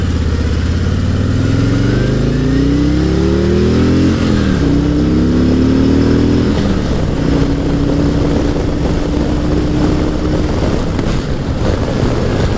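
A 2019 Harley-Davidson Road Glide Special with the 114 engine accelerates onto a highway, its rising engine note climbing through several gear shifts under loud, constant wind rush.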